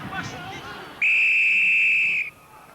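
A referee's whistle shrills in one long, loud, steady blast at a collapsed scrum during a 2001 French championship rugby match between Grenoble and Brive, cutting through a murmuring stadium crowd and then stopping abruptly.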